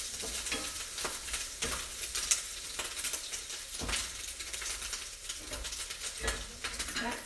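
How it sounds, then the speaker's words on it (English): Sausage being stirred in an Instant Pot for a sausage and spinach pasta, a steady scraping stir over a continuous sizzle with soft utensil taps against the pot, fairly close and with no talking. "we're going to stir up the sausage"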